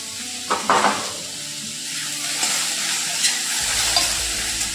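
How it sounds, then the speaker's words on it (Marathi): Onion, tomato, ginger and garlic stir-fried in a pan: a steady close sizzle of frying with scraping stir strokes and a couple of brief utensil knocks near the start. "हे सर्व साहित्य आपल्याला भाजून घ्यायचे। कांदा आणि टोमॅटो आपण भाजून घेतला की हे थोडेसे मऊसूत होतात"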